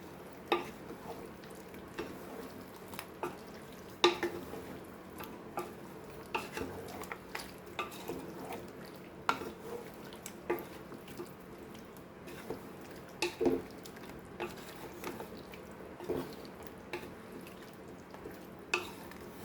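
Ground masala is being stirred into Goan chicken curry in a pan, with faint scraping and soft wet squishing at an irregular rhythm over a low, quiet sizzle.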